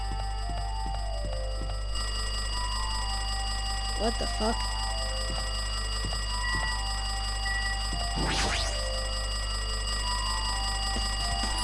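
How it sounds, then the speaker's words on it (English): An in-game telephone rings in Danganronpa 2 with bright, repeating electronic trills over steady background music. A voice briefly speaks near the start. "It looks like that phone is ringing."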